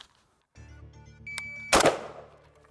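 A single sharp gunshot cracks from a Polish-made AK rifle in 7.62x39, fired as the first shot right after the safety is taken off. A brief electronic beep sounds just before, and the report fades quickly.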